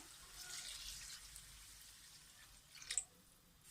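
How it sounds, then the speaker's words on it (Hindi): A glass of water goes into a pan of fried potatoes for an egg and potato curry, a soft splashing pour that is faint and close, ending in a brief louder splash. "अब मैं इसमें पानी डालूंगी 1 गिलास, ताकि आलू गल जाएं"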